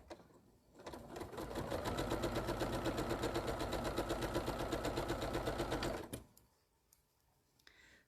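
A sewing machine stitches quilt panels in one sustained run of rapid, even mechanical chatter lasting about five seconds. It starts up and stops abruptly, close and alone, with quiet room tone before and after.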